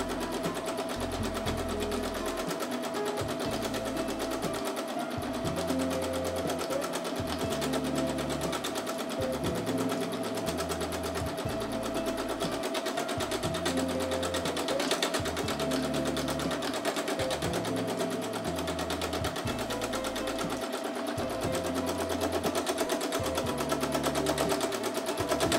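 A sewing machine stitches free motion embroidery in steady rapid bursts that pause and restart throughout, its low mechanical hum running continuously and close up, with no voices over it.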